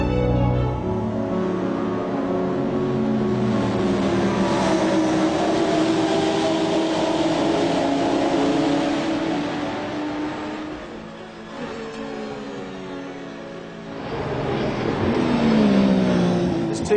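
Race cars at Road Atlanta during the Petit Le Mans endurance race, engines roaring and revving steadily and loudly, with a brief dip before surging again, no talk.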